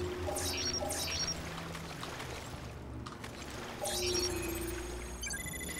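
A character runs through water in the video game Resident Evil Revelations, the wading and splashing churning as a steady pouring, sloshing noise with brief bright chimes of game sound above it.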